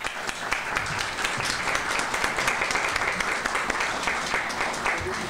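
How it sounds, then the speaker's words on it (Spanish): A conference hall audience at the closing session of a congress gives sustained applause, with a thick wash of many hands clapping at a steady level throughout. "les pido un aplauso, por favor"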